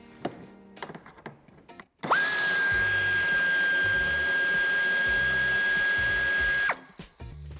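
A power driver whines loudly and steadily for several seconds, removing a screw from the wheel arch of a 2018 Ford Focus IV five-door, with brief clicks and handling noises before and after.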